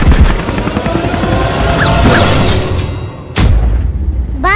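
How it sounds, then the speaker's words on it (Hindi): Loud helicopter rotor roar that builds, then cuts off into a heavy crash boom followed by rumbling debris and a rising whistle. "अबे जल्दी कूदो, ये हेलीकॉप्टर गिरने वाला है।"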